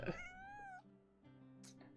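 A cat meows in a video game, one rising and falling meow at the start followed by low background game tones and a faint high chirp near the end.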